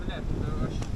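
Wind buffeting the microphone outdoors on a gusty day, a steady low rumble that is moderately loud and continuous.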